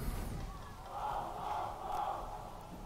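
Fans at a bandy match between Stroitel of Syktyvkar and Zorky of Krasnogorsk chant and cheer in rising swells. The crowd sounds distant and fairly faint.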